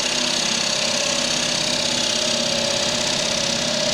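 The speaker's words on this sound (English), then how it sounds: "I will use a skew chisel as a scraper, and I'm just going to speed the lathe up" A very sharp skew chisel, used as a scraper, works a wooden bowl on a lathe spun up to higher speed, a steady dense whirring hum with an even scraping texture.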